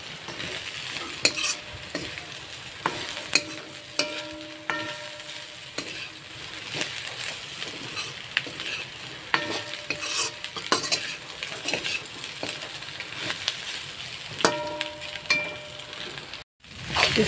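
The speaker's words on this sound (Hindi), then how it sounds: "इसको थोड़ा सा फ्राई कर लेंगे।" Beef with bottle gourd leaves frying in a pan, a steady sizzle carrying on throughout with repeated clinks and scrapes of a utensil stirring against the metal, and no voices.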